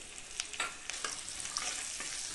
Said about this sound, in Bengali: এখন দিয়ে দেব কিছুটা গোটা জিরে।